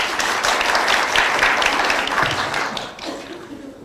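Dense, sustained applause from a seated audience at a Korean Medical Association presidential election candidate debate, steady and loud for several seconds before thinning slightly at the end.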